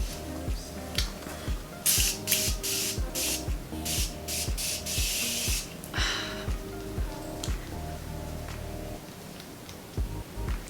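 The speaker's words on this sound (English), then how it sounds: "I'm gonna set with the Morphe Continuous Setting Mist." Morphe Continuous Setting Mist sprayed onto a made-up face gives a series of close, airy hissing bursts in quick succession, with soft handling noises between them and no talk.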